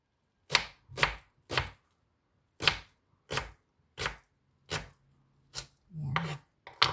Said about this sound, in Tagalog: Hiwain ko muna itong sibuyas.